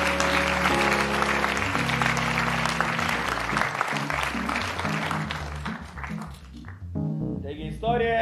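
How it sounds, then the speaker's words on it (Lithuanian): Audience applause welcoming a performer named Martynas onto a stage, a dense wash of clapping under loud sustained music that fades out near the end as the applause thins. "Taigi pasitikime aplodismentais Martyną"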